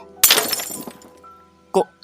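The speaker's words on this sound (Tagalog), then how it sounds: "nabitawan niya ang baso at nabasag ito sa simyento" A drinking glass is dropped and shatters on a cement floor, giving a loud sharp crash with a scattering tinkle of shards, then a second brief clatter a moment later.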